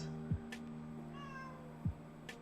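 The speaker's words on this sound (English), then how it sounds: "It's not a potato bark, it's a Kato meow." A house cat meows softly in a room during clay shaping work, one short faint call with a quieter murmur later, heard alone over low background hum.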